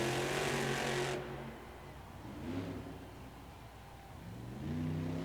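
Scooby-Doo monster truck roaring at full throttle in an arena time-trial race, a loud harmonic revving burst that drops off abruptly, then quieter rumbling and another engine surge building toward the end.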